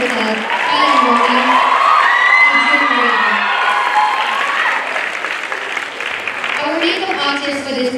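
A crowd applauds with cheers and whoops during the credits of a junior high school play in Nairobi. The clapping is sustained and a voice talks over it at moments.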